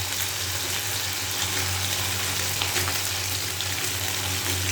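Continuous close sizzling and crackling of small fish frying in plenty of hot oil, an even, bubbling hiss that holds steady without pause or speech.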